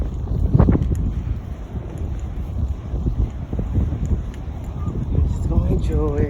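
Chilly wind gusts straight into the microphone outdoors on a windy day, a continuous heavy low rumble and buffeting that swells and eases throughout, with a person talking over it.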